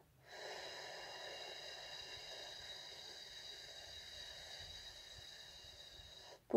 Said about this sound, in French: Pause. On expire.